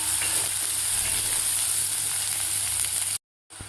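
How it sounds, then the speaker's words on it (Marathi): Steady, even sizzle of onion sautéing in oil in a pan, continuous and close for a few seconds before cutting off abruptly. "कांदा सुद्धा आपल्याला 2 मिनिटं व्यवस्थित परतून घ्यायचा आहे."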